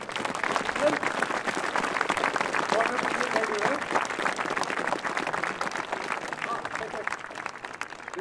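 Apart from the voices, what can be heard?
concert audience applause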